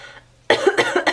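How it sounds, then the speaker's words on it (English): A single harsh cough bursts out close up, a couple of quick rough expulsions after a brief quiet moment. "That sounded like a fake cough, but it totally wasn't."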